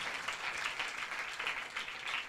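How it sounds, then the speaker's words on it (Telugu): A church congregation at a thanksgiving service in Kovvur bursts into loud, sustained applause, many hands clapping together in a dense wash. "ఒకసారి గట్టిగా చప్పట్లు కొడదాం."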